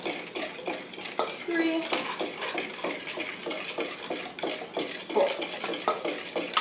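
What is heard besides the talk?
whisking eggs with a whisk in a bowl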